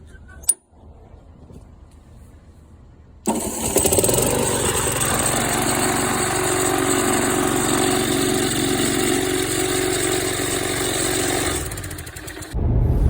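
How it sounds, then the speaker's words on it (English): A quiet click, then a Craftsman push lawnmower fitted with a homemade electric starter fires up and runs at a steady, loud, buzzing idle for about nine seconds before cutting off abruptly. "he's got an electric start lawnmower, which is pretty cool"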